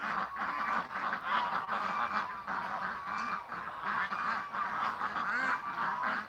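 Several ducks in a yard honk and quack continuously and loudly, overlapping calls at close range with no pauses.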